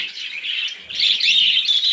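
Small aviary bird chirping close by, a quick run of high, bright tweets that rise in intensity in the second half, with no talking.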